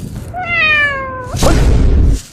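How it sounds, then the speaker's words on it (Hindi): A recorded cat meow played back, one clear drawn-out call with a falling pitch, followed by a loud rumbling thump. "अरे साला बिल्ली का क्यों बजा रहा है?"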